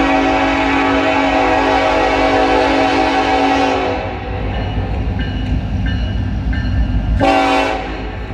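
Norfolk Southern SD70ACE diesel locomotive leading a freight train with a CSX unit, its horn blaring loudly at first and again briefly later over a steady, close rumble of engines and rolling cars.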